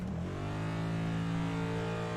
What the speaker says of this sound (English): Revs up the engine. He is eager to go.